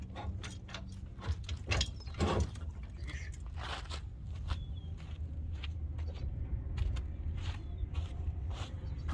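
A fat tire bike rack being slid into a vehicle's hitch receiver: metallic clanks, scrapes and ratcheting clicks at close range over steady outdoor background noise.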